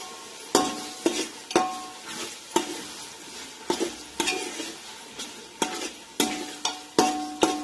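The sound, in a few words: stirring masale bhat rice with carrots in a pan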